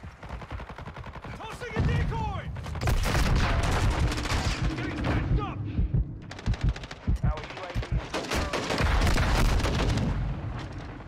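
Rapid automatic gunfire and bursts of shots in the video game Warzone 2, loud and close, with repeated rattling volleys and brief pauses between them.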